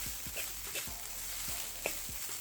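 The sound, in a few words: fried rice being stirred and frying in a pan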